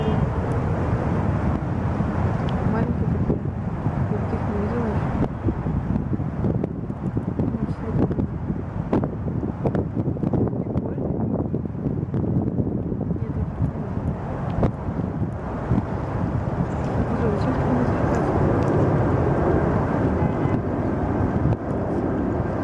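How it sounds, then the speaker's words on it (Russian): A large four-engine airplane flies slowly overhead, a low continuous rumble heard through strong microphone wind buffeting, with people talking close by. "О, летит кошмарно большой какой-то."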